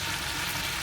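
Chicken pieces fry uncovered in a pan, giving a steady, close, dense sizzle that holds evenly with no voices.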